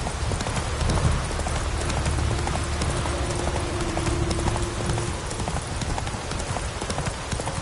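Roach, a horse in The Witcher 3 next-gen on PS5, trots with a steady, loud clip-clop of hooves over a dense, rain-like wash of background noise.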